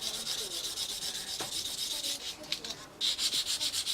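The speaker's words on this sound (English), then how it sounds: "So we come straight in with our sanding sponge" Sanding sponge rubbed gently over the seam of a Tamiya 1/32 F-16 CJ model canopy, giving a steady, close, soft scratchy rasp in quick back-and-forth strokes with a short pause near the end.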